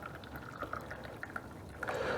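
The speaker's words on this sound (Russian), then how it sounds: "я беру чайник и просто наливаю себе в кружку чай." Tea poured from a kettle through its spout into a mug, a continuous liquid trickle with small splashy accents that grows fuller and louder near the end as the mug fills; no talking.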